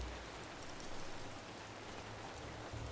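Steady rain falls in a survival city builder video game, a dense even hiss of drops spread across the whole stretch with no pauses, moderately loud and without any voices.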